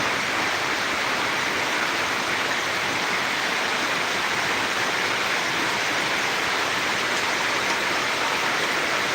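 Heavy rain pours down at night in a dense, steady roar of falling water, constant and loud with no pauses.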